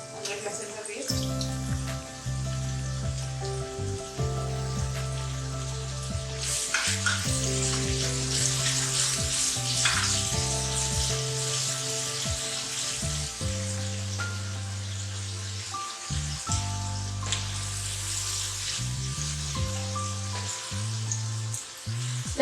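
Ginger garlic paste frying with onions in a pan for a beef keema with capsicum, a steady close sizzle running throughout under background music.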